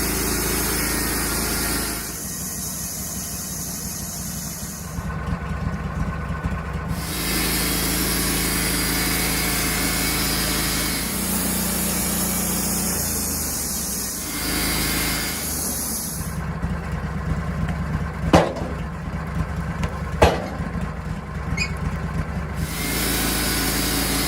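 A sawmill cuts a huge hemlock log into a cant, a loud, continuous engine drone and blade whine lasting throughout, with the pitch rising and easing as the saw runs through the wood and a few sharp clicks near the end.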